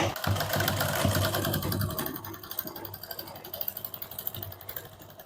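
A sewing machine stitches a double katori blouse, its motor running in a steady mechanical whir with rapid needle clatter that softens into intermittent pulses, close and moderately loud, with no talking.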